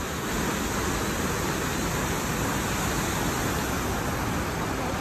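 A waterfall at Cerrito Plain in Tennessee roars as a steady, dense broadband rush, close and constant without letup and with no voices over it.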